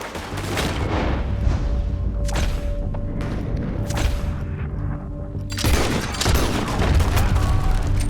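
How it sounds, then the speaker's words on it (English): Gunfire and booming shots from a Western shootout in Red Dead Redemption 2, dense repeated blasts over a rumbling battle bed, with a louder burst of shots near the end. "Told you I could shoot a gun, didn't I?"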